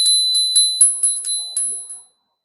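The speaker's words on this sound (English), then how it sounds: "And I'm going to ring the bell." A small bell rung during a closing medicine wheel blessing gives about eight quick, bright strikes in an irregular rhythm. Each strike rings briefly and the sound fades to silence after two seconds.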